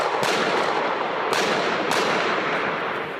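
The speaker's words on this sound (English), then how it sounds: "They heard gunshots and rushed to the roof." Loud, sharp gunshots crack three times at irregular intervals over a dense, roaring wash of noise, with echoing decay after each, during the January 2015 attack on Charlie Hebdo in Paris.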